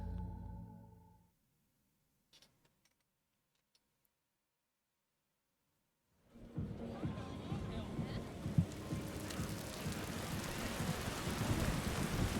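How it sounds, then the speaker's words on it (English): Steady rain with low rumbling thunder in the Yakuza Kiwami video game, rising suddenly after a few seconds of near silence and holding as a dense, continuous wash. "And it's raining."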